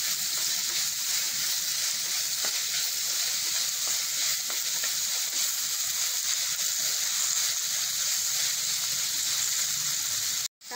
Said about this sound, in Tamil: தக்காளியும் வதங்கிடுச்சு.